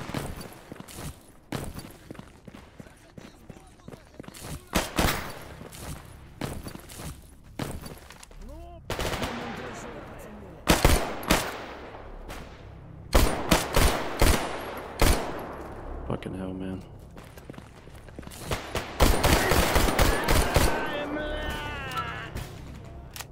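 Rapid gunfire from the player's weapon in STALKER GAMMA, bursts of sharp close shots in clustered volleys with pauses between, and speech is heard alongside.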